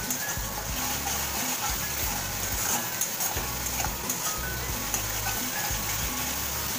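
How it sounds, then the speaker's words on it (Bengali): Onions sauté in hot oil in a pan, with a steady, close sizzle and hiss running throughout and occasional soft stirring scrapes. "পেঁয়াজটাকে কিন্তু তেলের মধ্যে আমি কষিয়ে নিচ্ছি"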